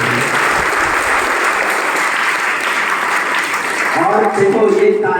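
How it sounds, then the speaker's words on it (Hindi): Loud, sustained applause from the audience at a students' felicitation ceremony at a coaching centre, with a voice starting to speak over it near the end. "जोरदार तालियां हो जाए।"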